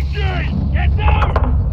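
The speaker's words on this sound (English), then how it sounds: "We're taking RPG fire from the east." RPG fire and gunfire in the Modern Warfare 2 mission Hardpoint, rooftop of a restaurant building in Olmeda: a heavy low rumble runs throughout, with sharp reports near the end, under a shouting voice.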